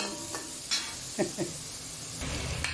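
Garlic and onions sizzle in a pan while being sautéed for lumpia sariwa, a steady close hiss broken by a few scraping stirs of a utensil.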